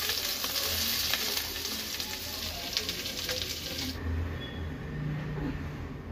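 Onion and capsicum frying in a kadai for kadai paneer, a busy close sizzle with scraping stir strokes that drops away sharply partway through, leaving a quieter low hiss.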